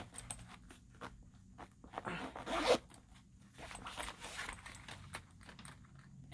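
Double zipper on a handled zip-up bag being pulled open or shut, a quick rasping zip burst in the middle with soft handling clicks and rustles around it, close and fairly quiet.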